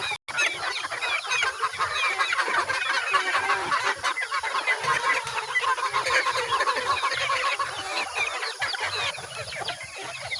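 Backyard chickens cluck and call continuously at close range, a busy layered chorus of hens over several seconds with no talk.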